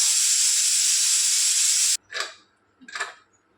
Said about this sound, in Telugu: కుక్కర్ని ఇలా ఇందులో ఉన్న ఎయిర్ అంతా పోయే వరకు పైకి తీసుకోవాలి